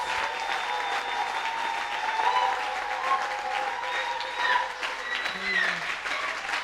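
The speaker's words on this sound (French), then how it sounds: "Can we rise up and clap for Jesus?" A church congregation claps steadily and continuously during worship, the applause filling the room while voices ring out over it.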